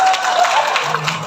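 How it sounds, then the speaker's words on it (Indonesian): An audience at a seminar in Surabaya breaks into brief, dense clapping, a short burst of applause with faint voices mixed in. "tepuk tangan buat mereka bertiga"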